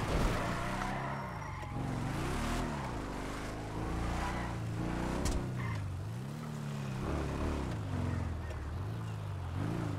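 Car in a video game driving away, its engine droning and rising and falling in pitch through repeated gear-like sweeps, loud and continuous with no talk.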